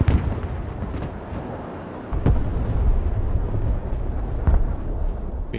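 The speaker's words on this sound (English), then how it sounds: "Rocket artillery ready, sir." Rocket artillery salvo in the military strategy game Broken Arrow, heard as a dense, sustained roar of launches with sharp bursts standing out, loud and continuous without voices.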